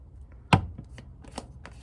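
A deck of cards is cut and shuffled close by, one sharp slap followed by a few softer riffling flicks in a quiet room.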